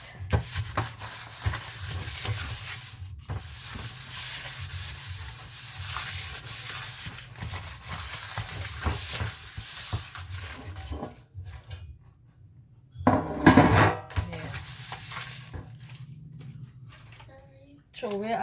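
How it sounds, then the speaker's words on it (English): Soft rubbing and scraping of butter being spread across non-stick baking pans for sweet bread, close and continuous, pausing briefly before a few louder strokes. "I'm just greasing 3 pans just in case."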